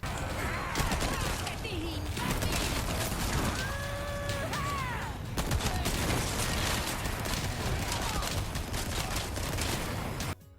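Rapid bursts of TMP submachine-gun fire ring out in the Resident Evil 4 Remake video game, with dense crackling volleys, mechanical clatter and a brief enemy cry, while a voice talks over much of the action.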